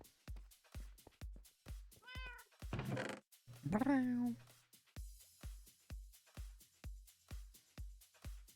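A cat gives two clear drawn-out meows, the second louder and lower, over a steady pulsing rhythmic thump in the background.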